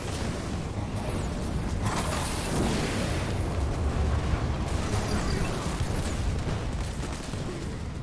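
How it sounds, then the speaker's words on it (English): Missiles launching and exploding in Halo Wars Firefight: a constant roar of booming blasts and bursts, loud and dense throughout, with sharp impacts surging over the rumble. "Missiles flying out everywhere."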